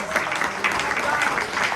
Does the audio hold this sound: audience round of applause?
yes